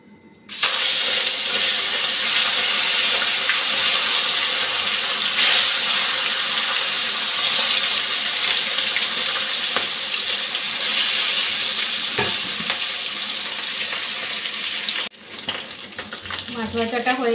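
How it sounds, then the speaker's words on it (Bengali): Katla fish pieces rubbed with salt and turmeric fry in a pan with a loud, continuous hiss and spatter that lasts until a short drop near the end. "মাছটা নুন হলুদ মেখে এখন ভেজে নিচ্ছি।"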